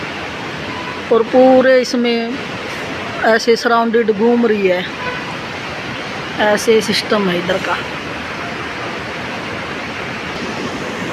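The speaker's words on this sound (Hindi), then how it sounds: "उसकी नदी की आवाज़ आ रही है" A steady broadband rush of a river flows behind Moustache Hostel in the Himalayas at night, continuous and fairly loud, with someone talking over it in short bursts.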